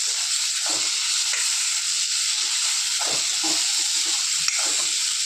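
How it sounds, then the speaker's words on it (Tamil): Tomatoes and curry leaves sauté with onions in a pan for a Chettinad fish curry, giving a loud, steady sizzle and hiss with a few scraping stirs. "எடுத்து வச்ச தக்காளி போட்டு நல்லா மசிய வதக்கிக்கணும்"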